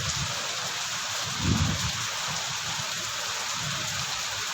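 Heavy rain pours steadily in a dense, even hiss in Mayiladuthurai, with a low rumble swelling briefly partway through.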